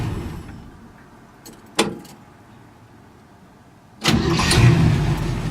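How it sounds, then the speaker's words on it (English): A truck engine runs steadily at a low idle after a cooling system overhaul, with a brief mechanical knock partway through before the engine note swells louder and rougher near the end. "It's a good running truck."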